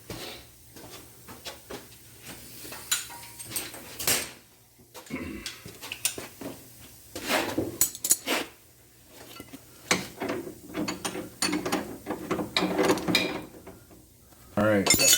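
A bolt and nut are worked loose from a BC Racing shock on a Dodge Viper, producing scattered metallic clicks, clanks and ratcheting taps, close and fairly quiet, with brief pauses between.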